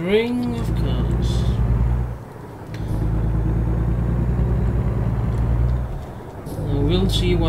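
A Peterbilt truck engine in American Truck Simulator drones loud and low, a steady rumbling hum that briefly drops away twice before returning at full strength.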